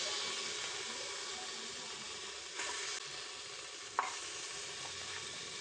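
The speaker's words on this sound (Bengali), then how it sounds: "এখন মাংসগুলি এর মধ্যে দিয়ে দিব।" Beef sizzles steadily in a pressure cooker on a stove, a continuous soft hiss with a couple of faint clinks and stirring scrapes, no talking.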